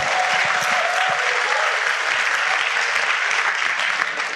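An audience at a business seminar bursts into sustained, dense applause, loud and continuous, fading slightly at the end.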